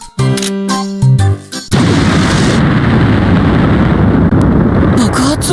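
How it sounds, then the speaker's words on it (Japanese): Bright game-style music plays briefly in Mana Khemia, then a loud explosion from an alchemy atelier bursts in and leaves a long, roaring wash of noise. "爆発音？ アトリエの方から？"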